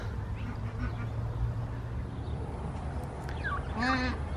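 Ducks honking and quacking on a small farm near a stick-built roost, a few harmonic calls rising toward the end over a low steady background hum, fairly close and moderately loud.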